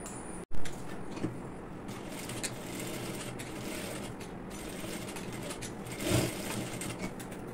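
A sewing machine runs steadily while stitching the armhole of a baby top. The mechanical whir is quiet and continuous, with a sharp click near the start and a small thump later on.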